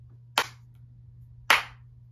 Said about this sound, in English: I clap twice.